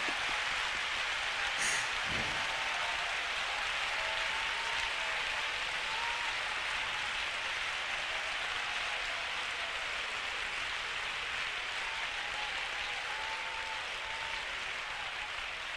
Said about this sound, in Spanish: si ese aplauso es para mi Dios, de lo más fuerte